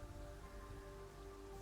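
Steady rain falling in Terraria, a faint, even hiss with a low musical hum underneath, continuous and without breaks.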